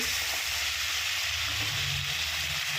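Pabda fish frying in hot oil gives a steady, dense sizzle that fills the whole clip at close range, with no voices over it.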